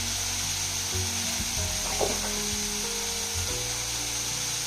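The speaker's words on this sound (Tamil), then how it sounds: "மஞ்சத்தூள் கொஞ்சம் சேர்த்திக்கிறோம். சேர்த்திட்டு கொஞ்சம் நல்லா வணக்கிக்கலாம்." Baby prawns with turmeric powder sauté in a pan with a steady, close sizzle, broken now and then by the brief scrape of stirring.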